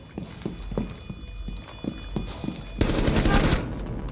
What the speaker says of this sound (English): Sound like he shot and like destroyed a gadget.